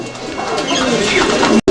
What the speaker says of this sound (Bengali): এটা আমেরিকান টেল মার্ক কবুতর